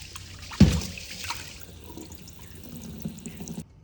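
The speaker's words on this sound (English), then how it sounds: "wash your rice until the water runs clear." Rice being rinsed under a running kitchen tap, water splashing and trickling steadily into a sink with one louder splash near the start, close and alone with no voices.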